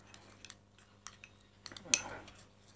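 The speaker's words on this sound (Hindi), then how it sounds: "दही की आप तकरीबन 1 चम्मच दही इसमें मिला लीजिए इस तरीके से अच्छे से" A spoon mixes tomato pulp with yogurt in a bowl, making faint, scattered clinks and scrapes against the bowl, with a louder clatter near the end and some quiet speech.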